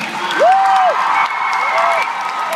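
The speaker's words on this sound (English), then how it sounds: "We've got a massive round of applause at the stage" A large convention crowd applauds and cheers for the Teen Wolf panel at London MCM Comic Con, with a steady, dense wash of clapping; a voice speaks briefly over it.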